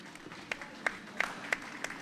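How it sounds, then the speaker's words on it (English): Spectators at a junior curling bonspiel final clap sparsely in an ice rink, a handful of distinct, echoing claps spaced about a third of a second apart over a faint hall ambience. "we hear the applause in the background for Team Stilp and Team Sigma Moggers."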